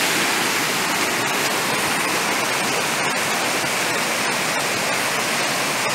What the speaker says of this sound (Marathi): डोंगराच्या मधून ही जी नदी आहे ती वाहते.